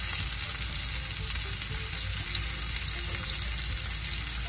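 Stuffed chicken breast fries over medium heat in a pan, giving a steady, even sizzle and crackle that continues unbroken at low volume with no talking.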